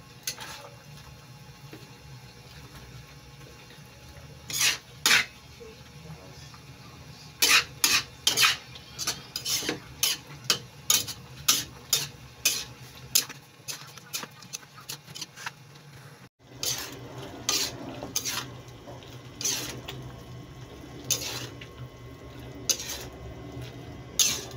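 A spatula scrapes and clanks against a pan while adobong kangkong with tokwa is stirred, giving irregular sharp metallic scrapes over a soft steady sizzle.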